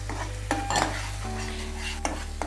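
Onions and ground tomato sautéed in a pan, with a few sharp metal spoon scrapes and clinks against the pan over a steady low hum and faint sizzle, close by.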